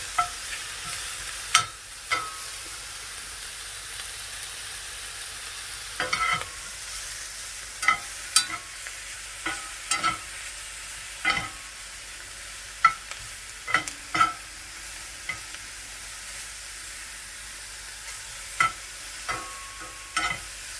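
Food searing in a hot pan, a constant soft sizzle broken by repeated sharp clacks and scrapes of utensils being moved and stirred at irregular intervals, close and moderately loud.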